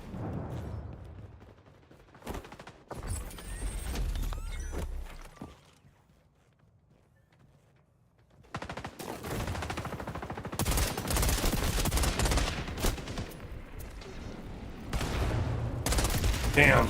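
Rapid bursts of automatic gunfire and scattered shots in the video game XDefiant, loud and dense, pausing briefly mid-clip before resuming in heavy volleys, with a voice talking over parts of it.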